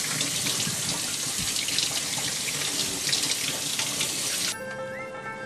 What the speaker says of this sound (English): Wash the chicken wings in cold water.